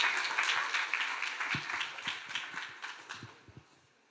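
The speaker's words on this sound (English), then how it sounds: "I want a big round of applause for Matthew Dominguez at Compassion in World" An audience at a Climate Week talk breaks into a round of applause, dense clapping that is fairly faint and gradually thins out and fades over a few seconds.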